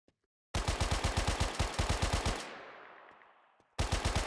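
Rapid automatic gunfire in a video game with infinite ammo, a loud near burst of evenly spaced shots that stops and trails off in a fading echo, then starts again abruptly.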